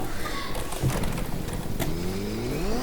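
A motorbike engine in the Fortnite video game revs and rises in pitch, its whine climbing steadily toward the end, with brief game effects along the way.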